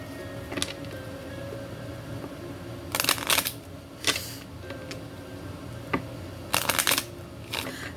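A deck of tarot cards being shuffled in a quiet room, with several short bursts of riffling and flicking spread across the moment, each brief and crisp, then a steady low room hum between them.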